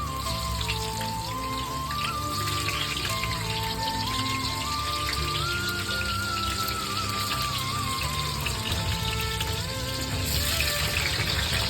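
Large potato pieces frying in oil at home, a dense, continuous sizzle with a faint wavering tone running in the background.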